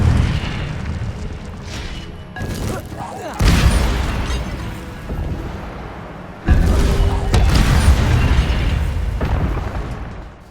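Incendio fire spell cast in Hogwarts Legacy, heard as loud booming fiery bursts with a whooshing blast, a couple of heavy eruptions a few seconds apart, with game voices around them.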